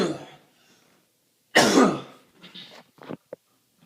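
A single loud, harsh cough bursts out after a near-silent pause, followed by a few short, quieter throat sounds.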